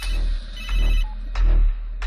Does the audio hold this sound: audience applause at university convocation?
no